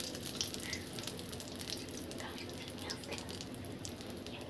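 Cardamom, cloves and peppercorns fry in hot oil for a tilapia curry, making a soft, continuous sizzle with faint crackles and stirring, fairly quiet and close throughout.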